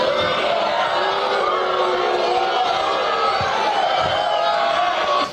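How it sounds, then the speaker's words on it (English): A large political rally crowd awaiting Donald Trump roars continuously, a dense, loud wash of voices, shouts and cheers sustained throughout with no pause. "Listen to the crowd react to this guy"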